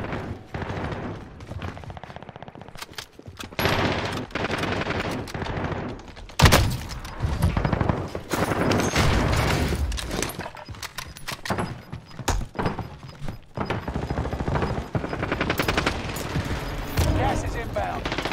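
Decoy grenades in Call of Duty Warzone on Rebirth Island fake bursts of gunfire, with several overlapping rattles of shots popping around the player in a busy, loud mix of game noise and a loud thump partway through.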